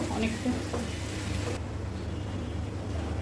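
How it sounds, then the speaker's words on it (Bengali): Prawns fry with spices in a pan for a Bengali prawn malai curry, giving a steady, close hissing sizzle that runs throughout at moderate volume. "মশলার সাথে চিংড়ি মাছটা কষিয়ে নিব"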